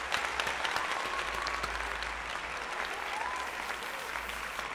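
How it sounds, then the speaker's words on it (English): Applause from a crowd at a live music show, a thick, continuous patter of many hands clapping at a distance, fairly faint and steady, with a low hum underneath and no speech over it. "First, an applause."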